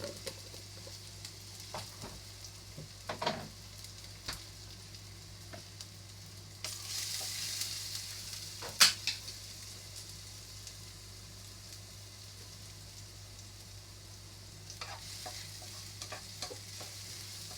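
Garlic fries quietly in a pan, a faint, steady sizzle with scattered clinks and scrapes of stirring, and one brief louder burst midway, over a low background hum.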